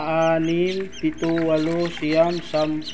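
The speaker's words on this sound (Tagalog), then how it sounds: "meron akong sisiw na 1, 2, 3, 4, 5, 6, 7" Newly hatched chicks in a carton incubator, close and fairly loud, giving several drawn-out peeping calls in a row with short gaps between them.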